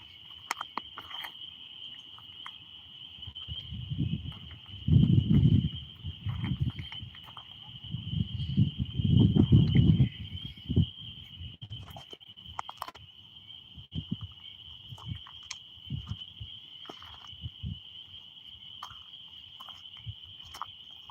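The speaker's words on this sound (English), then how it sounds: "I do not understand why these crickets are chirping so early." A steady, high-pitched drone of chirping crickets runs throughout, with occasional low thumps and rustling beneath it.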